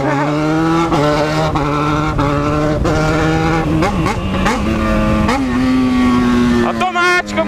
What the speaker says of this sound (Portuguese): A moto caiu neutra aqui, ó.